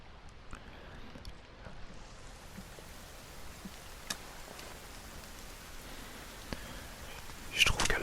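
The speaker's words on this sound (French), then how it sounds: "Juste quand on est à la pluie puis qu'on rentre en dessous de l'abri." Steady rain in the survival video game The Forest, a continuous soft hiss dotted with small ticking drops, with faint whispering over it and a few louder bursts toward the end.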